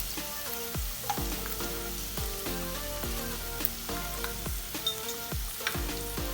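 Paneer bhurji frying in a pan as turmeric and salt are stirred in with onions, a steady sizzle running under rhythmic background music with regular beats.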